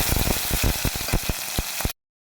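Dried red chillies, a green chilli and crushed garlic sizzle loudly in hot oil in a pan, a steady close frying hiss broken by repeated sharp crackles and pops, with no talking.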